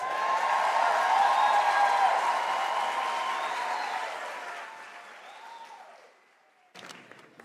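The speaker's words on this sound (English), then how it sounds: "give me a round of applause" Sustained applause from a large audience at a university graduation ceremony, loud and steady at first, then thinning and fading out, with a brief late burst of scattered clapping.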